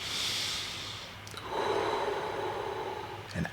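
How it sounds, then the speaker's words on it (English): A single deep breath, drawn in softly, then a longer, steadier exhale, quiet and close, with no talking. "Now take a deep breath."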